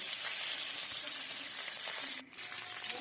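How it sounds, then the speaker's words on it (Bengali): A hilsa fish head coated in salt and turmeric frying in oil with a loud, steady sizzle and crackle, dropping briefly near the end before continuing. "তেল দিয়ে নুন হলুদ মাখানো মাছের মাথাটা ভেজে নেব।"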